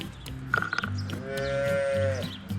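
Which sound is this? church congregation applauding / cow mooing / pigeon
cow mooing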